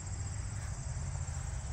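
Crickets chirp in a steady, high-pitched trill on a disc golf course, continuous and moderately faint, over a low background rumble.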